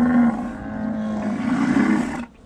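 A cow in a pasture lets out a single long, loud moo up close, holding steady for about two seconds before cutting off abruptly.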